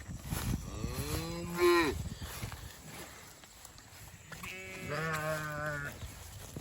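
Cattle moo and sheep bleat nearby as a mixed herd is moved across a farm pasture; two long calls stand out over soft background noise.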